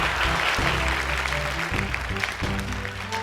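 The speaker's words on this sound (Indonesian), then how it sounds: "Tepuk tangan untuk Aida Malang" Audience applause at an Indonesian televised Quran memorization competition, a dense patter of clapping with a steady low musical tone underneath.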